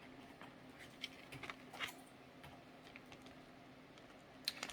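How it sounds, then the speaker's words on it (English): Faint, sparse tapping of computer keys in a quiet room, irregular bursts of clicks at a distance. "If you hear typing in the background"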